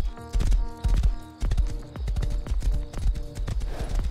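Horse hooves clopping in the Rust survival video game, a steady, loud rhythm of sharp hits close by, with no speech over it.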